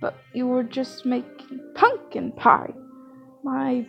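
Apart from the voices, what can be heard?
No everyday noise stands out behind the speech.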